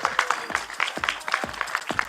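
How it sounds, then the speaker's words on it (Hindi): At a film trailer launch, a sparse audience claps lightly with uneven separate hand claps, soft and close, with some faint crowd murmur beneath. "कम, जो तालियां है, कम make some noise for Arun"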